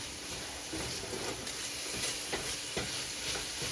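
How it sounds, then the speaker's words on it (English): Sausage sizzles and crackles steadily in a frying pan, a close, continuous hiss with small pops and occasional stirring scrapes, no talking. "My sausage is cooking away over here."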